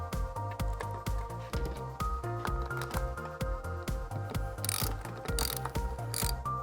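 A socket wrench ratchets repeatedly while a lifting bracket is fitted to a telecoms cabinet with a 9/16 or 14 mm socket, giving a steady, close series of mechanical clicks with a few brighter metallic rattles.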